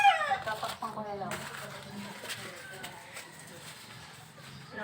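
Pet chickens and other birds cluck and squawk close by, with a loud cry at the start followed by scattered calls. People chatter over them throughout.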